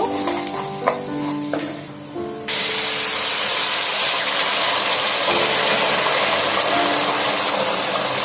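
Water poured onto rice frying in a pot for atap-rice khichuri bursts into a loud, steady hiss and sizzle that swells suddenly partway through and holds to the end, following quieter frying before it.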